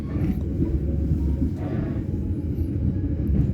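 A steady, heavy low rumble of a moving passenger train between Pekalongan and Semarang, Indonesia, heard from the business class, continuous and unbroken, with no talking.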